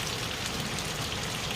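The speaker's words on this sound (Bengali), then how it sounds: "বৃষ্টি পড়ছে" Morning rain falling steadily near a garden, a soft, even hiss of drops heard alone for a brief moment.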